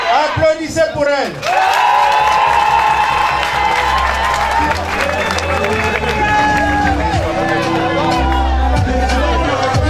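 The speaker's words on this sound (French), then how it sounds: "Applaudissez pour elle." Wedding guests at a customary marriage (dot) applaud and cheer, a loud, dense crowd of claps and whoops running throughout, with music and a voice over a microphone mixed in.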